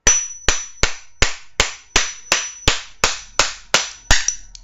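A thick protective phone case piece is struck against a phone like a hammer, giving about a dozen sharp, loud, evenly spaced knocks in a steady rhythm.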